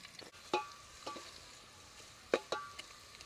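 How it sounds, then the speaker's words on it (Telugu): Green chillies and tempering spices for a yogurt brinjal curry fry in a pan, giving faint crackling sizzles with a few sharper pops and spatula stirs scattered through the quiet clip. "ఈ పెరుగు వంకాయకి తిరగమాత బాగా ఎర్రగా దోరగా వచ్చేదాకా వేపుకున్నాం"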